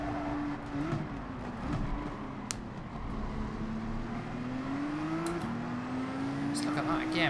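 A race car in Gran Turismo 7 drawing alongside in a manufacturer series race: a steady engine drone with rising, shifting pitch as another car powers past on the outside, continuous and fairly loud.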